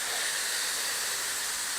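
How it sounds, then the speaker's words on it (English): A garden hose sprays water onto plants in hot summer weather in Hungary, giving a constant close hiss with no change in level and no voices. "So I'm doing a bit of watering on around the plants around this area"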